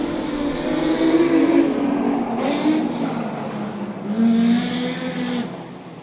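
Engines of production sedans racing at Maryborough Speedway roar and drone together, swelling as the pack passes, loud and continuous with no voices.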